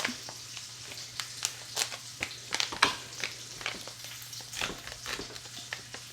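Bacon sizzles and crackles in a pan in the background, a steady frying hiss with scattered pops and light clinks of kitchen activity.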